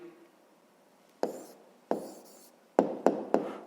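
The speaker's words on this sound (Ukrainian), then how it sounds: "Давайте запишемо внизу, пишемо відповідь." Handwriting on paper while noting down a maths answer, a few separate close scratchy strokes and taps of the pen, quiet and with no talking.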